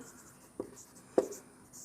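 Two short marker or chalk strokes land on a board during a class 9 polynomials maths lesson, quick isolated taps about half a second apart against a quiet room.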